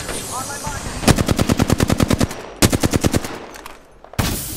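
Automatic gunfire in a video game shootout comes as two rapid bursts of loud, evenly spaced shots, followed by a few scattered shots and a final sharp blast.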